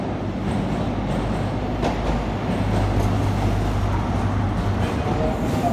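A train bound for Edinburgh Waverley pulls into Darlington station with a steady, loud rumble, a low drone underneath and faint rail clatter throughout.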